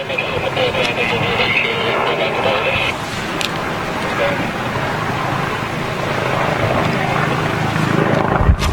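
NYPD helicopter hovers near JFK Airport, its rotor chop a continuous rumbling wash mixed with other airport and traffic noise, with voices heard over it.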